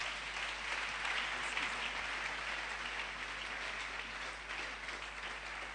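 A church congregation applauds together during a French-language sermon, a steady, dense wash of clapping that stays even from start to finish with no talk over it.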